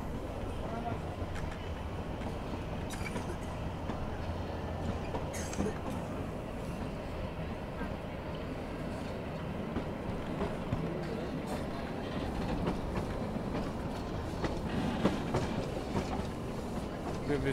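Shimla toy train, the Shivalik Deluxe Express, rolling along in winter with a steady rumbling clatter of wheels and coaches, continuous and moderately close, with people talking over it.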